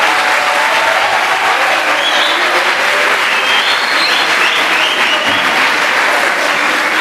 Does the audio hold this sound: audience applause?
yes